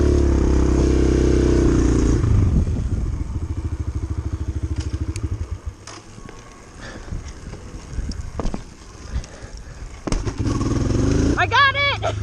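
A dirt bike engine fires up after a bump start, first chugging in a rapid steady putter, then revving irregularly and loudly close by with wind noise and a rider's voice.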